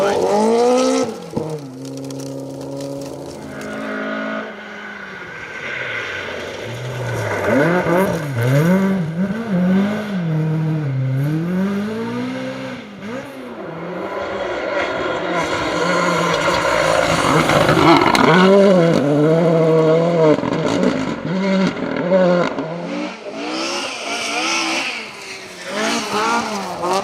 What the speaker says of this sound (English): The man who leads the historic coming into here, Martin McCormack, Barney Mitchell alongside